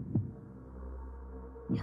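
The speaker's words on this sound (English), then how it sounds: "Heartbeat. Heartbeat." Two deep, muffled heartbeat thumps about a second and a half apart sound over a low, steady hum in the horror game Five Nights at Wario's 3, set in a creepy mansion at night.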